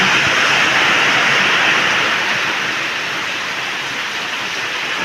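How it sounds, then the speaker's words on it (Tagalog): Heavy typhoon rain pouring steadily, a dense, loud hiss of water with no other sounds standing out. "Sobrang lakas ng ulan."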